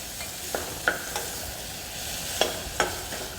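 Food cooks in a pan with a soft, steady sizzle, punctuated by a handful of light utensil taps and scrapes from stirring; fairly quiet and close, without speech.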